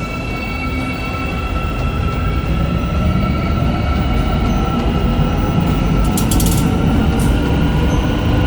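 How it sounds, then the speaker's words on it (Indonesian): Istanbul metro train at Halic station, a loud continuous rumble of rolling rail wagons with a steady drone and brief metallic squeals, heard close up throughout. "Kita baru turun di stasiun metro Halich."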